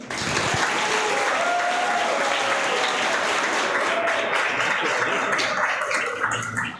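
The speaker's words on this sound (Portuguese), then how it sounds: "Vamos aplaudi-los?" A church congregation at a Christmas service applauds candidates for baptism with steady, dense clapping that fills the room from start to finish, with faint voices mixed in.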